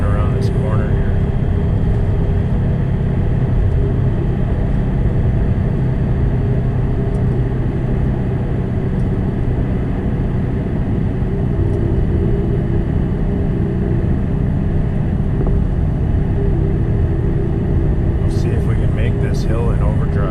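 A Detroit 4-53T diesel engine pulls a truck down the road, its loud, steady drone and rumble holding level throughout, with a brief higher rattle near the end.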